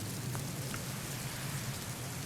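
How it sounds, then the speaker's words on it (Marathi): Heavy rain falling on a farm field in Mehkar taluka, Buldhana district, as a steady, dense broadband wash with a constant low rumble and no gaps or voices. "बुलढाणा जिल्ह्यामध्ये देखील मुसळधार पाऊस झाला आहे"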